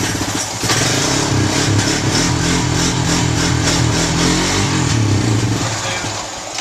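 A Honda Rancher ATV engine runs loud and close after a carburetor rebuild, holding a steady drone with slight swells of revving, while voices sound faintly beneath it.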